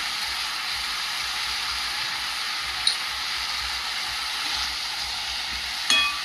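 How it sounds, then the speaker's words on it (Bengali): Vegetables with turmeric and salt sauté in a pan, making a loud, continuous hiss up close with two short scrapes or clatters, one partway through and one near the end. "দিয়ে আবারও কষিয়ে নেব।"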